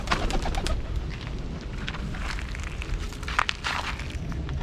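Pigeons at a backyard coop, soft cooing and flapping wingbeats with scattered sharp clatters over a steady outdoor background, fairly close.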